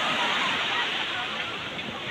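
Sea waves on the shore at Somnath, heard as a loud, constant wash of surf mixed with wind buffeting the microphone, with no distinct breaks between waves.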